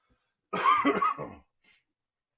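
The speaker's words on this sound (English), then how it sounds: "Sorry for coughing into the mic" A man coughs close into a microphone: a short burst of two or three harsh coughs, then a faint throat sound and a brief click, all against otherwise silent background.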